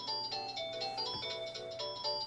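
A house phone ringing with a repeating electronic ring, bursts of bright warbling tones recurring in a steady pattern, fairly faint and heard alone without speech.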